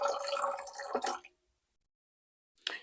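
Warm water, around 100 to 105 degrees, is poured for homemade bread dough, giving a near, steady splashing pour that stops after about a second, followed by silence and a brief later splash.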